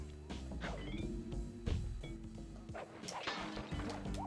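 Dog barks from the stealth game Sly Cooper, a few short yaps and woofs scattered over busy game music and crashing effects, moderately loud in the mix.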